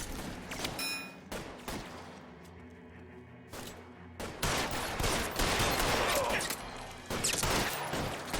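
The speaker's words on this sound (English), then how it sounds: "I'm not used to the gunfights in this game." A gunfight in the video game L.A. Noire, with bursts of rapid gunfire and sharp shots that start sparse and separated, then swell into a dense, sustained barrage in the second half.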